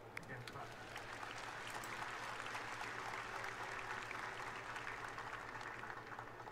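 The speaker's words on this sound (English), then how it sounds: "You can clap." Soft, steady applause from a large audience at a live Samsung Galaxy Unpacked 2018 launch event, heard faint and distant as a continuous wash of clapping that holds evenly throughout.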